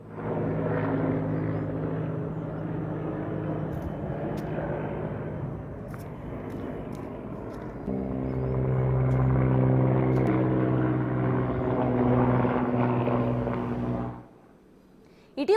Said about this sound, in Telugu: క్రాస్ అయిన హెలికాప్టర్ను తాడు కట్టి సైన్యం Mi-17 చాపర్తో తరలించేందుకు ప్రయత్నించారు.